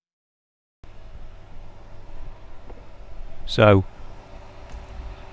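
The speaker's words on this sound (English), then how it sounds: "you can hear me, but you can also hear a fan in the background." A steady low whooshing hum of an electric fan runs in the background, with someone speaking a single word briefly over it.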